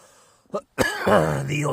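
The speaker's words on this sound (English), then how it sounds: "I've got the old ginger pube cough." A man at a wild camp by Crummock Water gives a short, harsh cough from a hair caught in his throat, then a longer rough throat-clearing, close and fairly loud, running straight into a strained voiced sound.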